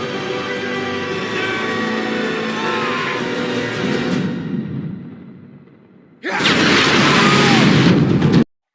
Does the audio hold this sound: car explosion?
yes